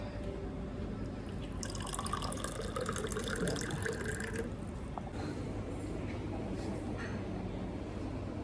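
Water poured into a glass of orange juice at a Santiago de Chile restaurant, a close splashing fill for a few seconds followed by scattered drips and faint clinks in a room.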